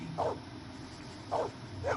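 Maggie, the dog in Blade Runner, gives three soft, muffled barks against a low hum, with a brief gap between the first bark and the last two.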